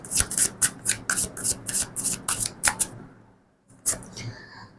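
Tarot cards are shuffled in a quick run of crisp, rhythmic riffling bursts, close and fairly loud, followed by a short pause and a last flick or two.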